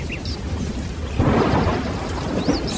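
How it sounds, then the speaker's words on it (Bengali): Heavy rain pours down as a story sound effect, with a rumble of thunder swelling midway into a dense, loud downpour that keeps hissing steadily to the end. "মুহূর্তের মধ্যেই ঝমঝম করে বৃষ্টি নেমে এলো"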